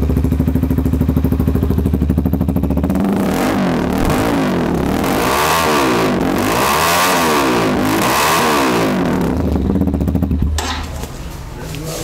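A Winner VBR 150cc motorcycle engine revs repeatedly, rising and falling in several loud, close throttle sweeps over a steady idle before settling back to idle at the end.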